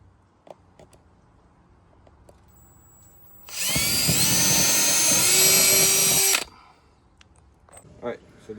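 A power drill pre-drills holes for mounting a polycarbonate door or window awning, whirring loud and steady for about three seconds, with faint workshop clatter before and after.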